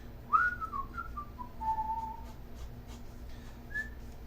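A person whistles a short, wandering melody of gliding notes, fairly faint against a quiet, humming room background with no talk.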